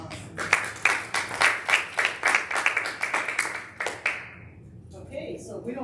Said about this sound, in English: Let's give Madison and Harper another round of applause.